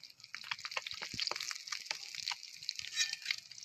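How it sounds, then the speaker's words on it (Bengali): Small silver fish, known locally as deshi ilish, fry in a pan with a faint, crackly sizzle of scattered pops and spatters, quiet and close, with no talking. "এই যে এখানে মাছটা ভাজা হচ্ছে, ছোট সিলভার মাছ"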